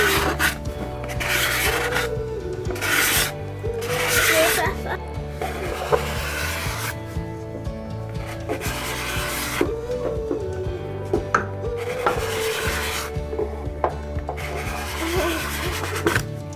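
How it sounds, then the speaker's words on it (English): A card scraper drags over a wooden striped cutting board in repeated long rasping strokes, loud and close, with short pauses between passes. "A card scraper. Because it scrapes it."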